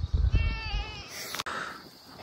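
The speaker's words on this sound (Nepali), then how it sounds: "ल हाम्रो बाख्राहरू चाहिँ यहाँ" A goat on a farm house in Solukhumbu gives a single wavering bleat at close range, followed by quiet background noise.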